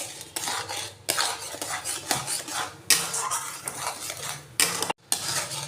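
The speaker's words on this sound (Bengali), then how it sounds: "যতক্ষণ না চিনিটা গলছে ততক্ষণ আমি এটা নেড়ে নেড়ে এটা ঘন করে নেব।" Milk and sugar are stirred in a pan until thick for a milk kheersa dessert, with repeated scraping and metal clinks of a spoon against the pan in uneven strokes.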